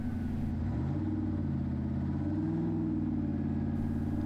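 A formula offroad buggy engine revs and drones steadily at a distance on a hill climb at Egilsstadir, Iceland, the low rumbling pitch rising and wavering without any speech.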